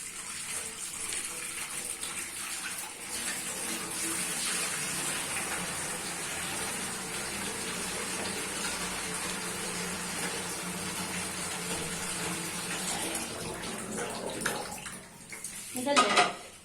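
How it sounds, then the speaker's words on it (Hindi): Tap water runs steadily over dates being washed in a kitchen, a continuous hissing gush that stops abruptly near the end with a few clinks of dishes. "खजूरे भी धो के रख लेते हैं।"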